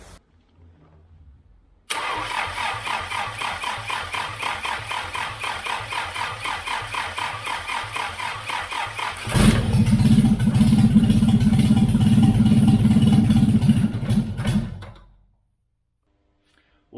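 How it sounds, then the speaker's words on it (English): An Austin Healey engine, fed by a makeshift fuel supply, cranks with a rapid rhythmic starter whir for several seconds, then sputters into a louder rough run before cutting out abruptly. "it cranks. It sputters."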